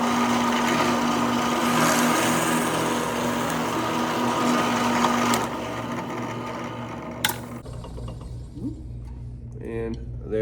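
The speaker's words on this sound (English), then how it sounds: "when I drill through here, it's not going to go anywhere" Power drill boring through a recycled plastic block for a mallet project, a loud steady whining motor for about five seconds that then cuts off, followed by quieter handling noises and brief talk.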